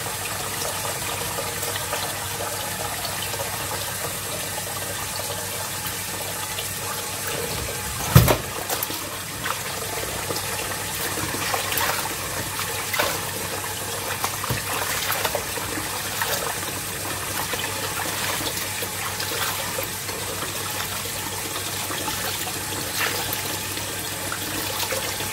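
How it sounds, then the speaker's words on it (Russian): Water runs steadily into a kitchen sink and drains away. A continuous hissing rush lasts throughout, close and fairly loud, broken by one brief thump early on. "как у меня раковина работает"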